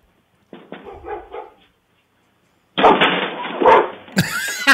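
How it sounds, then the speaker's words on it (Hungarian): An excited dog barking close by in two short bursts separated by a pause, the second louder and more intense, ending with a high whimpering yip. "hogy megörült a kutya"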